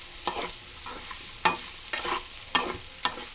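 Meat stirred into hot oil in a frying pan, producing sharp repeated scraping strokes at irregular intervals over a low continuous sizzle, near and without talk.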